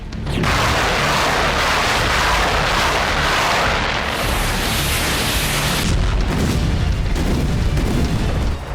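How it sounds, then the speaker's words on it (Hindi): A massive, sustained artillery shell explosion rumbles on for several seconds, deep and overwhelming, with a second surge of blast noise near the end. "पहले रूसी आर्टिलरी के शेल का धमाका हुआ"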